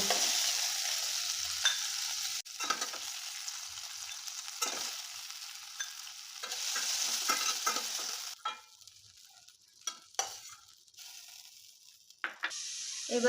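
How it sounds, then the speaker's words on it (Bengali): Shrimp lightly frying in a pan give a steady close sizzle and hiss for the first half, with stirring scrapes, then a quieter, more broken crackle marked by sharp spatters and clinks toward the end. "চিংড়ি মাছগুলো হালকা করে ভাজা হয়ে গেছে এবারে চিংড়ি মাছগুলোকে তুলে নেব"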